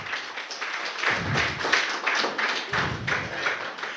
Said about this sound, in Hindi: अपने आप के लिए एक बार ताली बजा ले